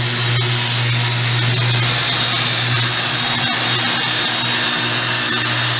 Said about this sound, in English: I'm just using the drill to power, to spin the valve in the cylinder head.